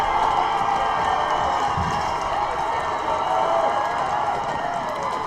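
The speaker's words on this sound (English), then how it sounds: "The crowd's pitching into it." A steady, roaring crowd noise fills the stands at a high school football game between Rocky Mountain HS and Columbine HS, a continuous wash of cheering at even loudness with no clear break.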